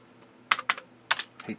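Keys clack on an Amiga 600 keyboard in a few short bursts, two quick presses, a pause, then three more, close and fairly quiet with no talking.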